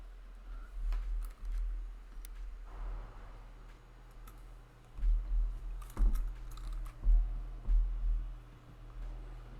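Typing a city name on a computer keyboard: a run of close, soft key clicks in uneven bursts, over a steady low hum.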